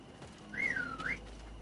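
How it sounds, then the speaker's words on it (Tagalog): A single two-note whistle, rising then falling, sounds clearly at mid distance in the video game GreedFall, brief and alone over a faint low background hum. "May sumipol."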